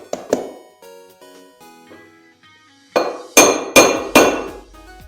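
An old machined bearing is used as a driver to hammer a new washing machine bearing into place, giving sharp metallic clanks with ringing decay: two quick hits, several lighter taps, then four loud, evenly spaced blows.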